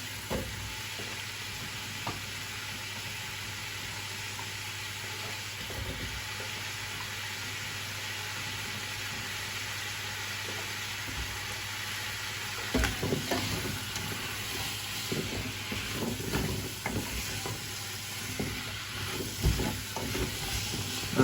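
Chopped celery and onions sizzle steadily in a pan for a beef casserole, a continuous frying hiss with stirring scrapes that grow busier and louder partway through.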